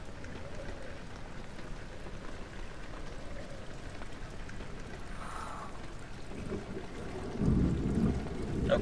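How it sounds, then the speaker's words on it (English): In the horror game Amnesia: The Dark Descent, a steady wash of rain plays alongside distant low rumbles of thunder, with a heavier rumble building near the end, and no speech. "Clearly it's London. It's raining."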